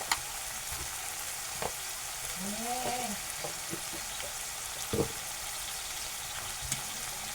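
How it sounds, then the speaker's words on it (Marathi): Masala being sautéed in a pan for an onion-potato curry, a low steady sizzle with a few scattered spatula scrapes and taps, fairly faint, with a brief bit of background voice. "आता मी मसाला टाकलं ते मी आता परतून घेतो"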